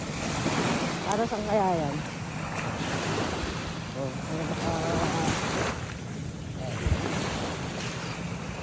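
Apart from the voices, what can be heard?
ocean waves at the seashore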